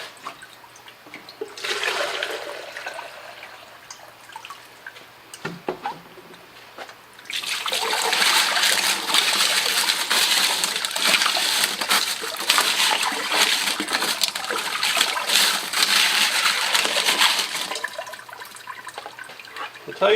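Water splashes and rushes loudly as rocks from a rock tumbler are washed off, starting with scattered sloshing and then becoming a steady, close gush of running water for about ten seconds before easing.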